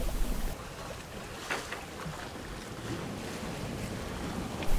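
A sailboat sails on the bay near Point Richmond, with wind buffeting the microphone over the rush and slap of waves, a steady wash of noise and no voices.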